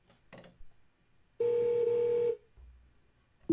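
A mobile phone call placed by voice command through a Google Home smart speaker rings out, giving one short electronic tone burst after a brief click, then silence, then the start of another tone.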